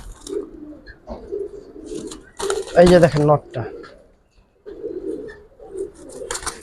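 Pigeons at a pigeon market, including a silver pigeon, give soft, repeated low coos near the microphone, with a louder burst of cooing midway, while people talk close by.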